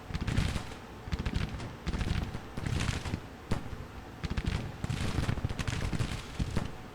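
Cannon fire echoes across a battlefield in a Civil War strategy game, with repeated booming bursts and crackling volleys rolling in clusters, loud and continuous with no talk.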